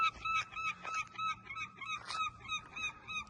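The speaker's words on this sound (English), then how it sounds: "Ah, the seagulls." Seagulls calling at Grand Portage Bay, a rapid series of repeated honking, squawking cries in a steady rhythm, moderately distant over faint background noise.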